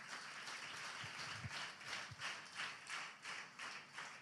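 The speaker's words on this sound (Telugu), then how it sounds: "చప్పట్లు కొట్టండి" A church congregation claps in a steady rhythm of faint, regular beats, heard from a distance with a few low thumps and no talk.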